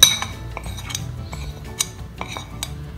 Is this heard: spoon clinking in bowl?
yes